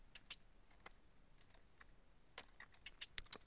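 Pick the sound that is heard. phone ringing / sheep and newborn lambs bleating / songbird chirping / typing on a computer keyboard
typing on a computer keyboard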